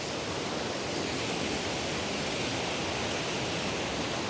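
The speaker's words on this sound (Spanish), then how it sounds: "Allá está la cascada." Waterfall near Matucana, Peru, heard from a swaying footbridge: a constant, even rush of falling water that fills the whole clip with no pauses or voices.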